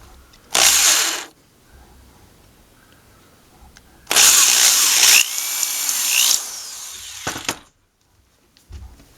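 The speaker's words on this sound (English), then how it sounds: "And we will drill down through there," A power drill bores a 1 3/8-inch hole down through a wooden block for a homemade wood lathe, running in a short burst and then a longer loud run that slows and winds down.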